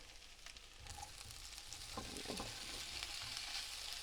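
Chicken sausage stir fry sizzling steadily in olive oil in a pan, a continuous close hiss with a few brief clinks and stirring scrapes partway through, no talking.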